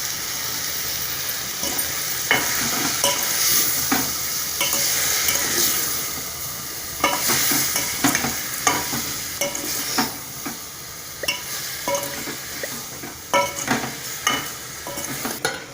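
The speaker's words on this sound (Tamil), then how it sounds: "எண்ணெயில் இப்போ காலிஃப்ளவர் தக்காளி எல்லாம் நல்லா வணங்கட்டும்." Cauliflower and tomato sautéing in oil crackle with a steady close sizzle, broken by repeated sharp scrapes and clinks of a utensil stirring in the pan.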